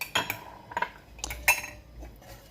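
A spoon clinks against a bowl while stirring a little milk into beaten egg and powdered sugar batter for Egyptian Sobia biscuits, a few light scattered taps, close and alone.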